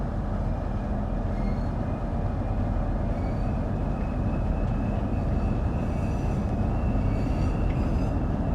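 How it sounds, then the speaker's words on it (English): An electric train in Train Sim World 6 rolls off from a station with a steady rumble of wheels on rails, loud and continuous, with faint rising motor whines and a few thin squeals, no voices. "The train is now ready to depart."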